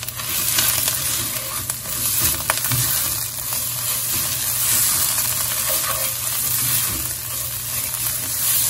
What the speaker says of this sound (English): Next, I want the spices to cook as well.